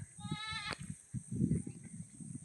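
Goats bleat close by in a rural village farm setting, one sharp wavering bleat early on over a low rustling and murmuring background.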